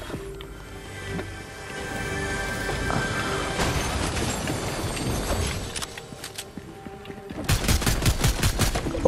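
A turret firing in Fortnite: a busy din of game combat builds up, then a close, evenly spaced run of rapid automatic shots rattles out loudly near the end.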